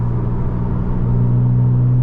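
A 2023 Porsche Boxster GTS 4.0 with a manual gearbox drives with its sports exhaust off, giving a steady, droning engine intake hum and low rumble that carries on without a break.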